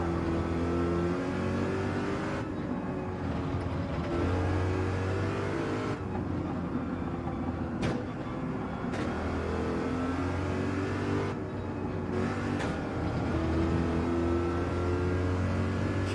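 A Corvette's engine roars steadily in a Gran Turismo 7 online race, revving hard with brief drops at gear shifts every few seconds before the note climbs again.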